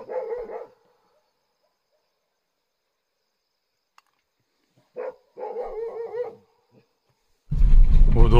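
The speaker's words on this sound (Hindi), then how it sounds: "दूसरे कुत्ते भौंक रहे हैं ना।" Dogs bark in a forest near a tiger reserve in India, a few short bursts of barking separated by long quiet gaps, with faint insects in the background and a louder rumbling burst at the end.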